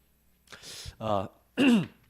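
A couple of rough throat-clearing bursts followed by a short, strained vocal cough, close and fairly loud, with brief pauses between them.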